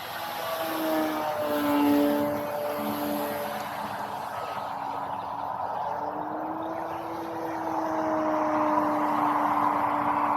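An E-Flite Timber X RC plane on a 4S 2200 mAh battery flies overhead, its electric motor giving a steady propeller whine that swells and fades in pitch as it passes, fairly loud throughout with no talk.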